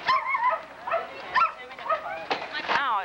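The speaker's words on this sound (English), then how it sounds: "These puppies don't have any little kids to play with" Puppies at a dog show's grooming area yip and whimper in short high bursts, several overlapping calls close by over about three seconds.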